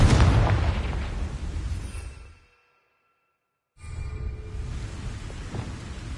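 Hogwarts Legacy's Confringo fire spell detonates with a deep rumbling boom that fades out over two seconds, followed by a short silence and then a lower continuing roar.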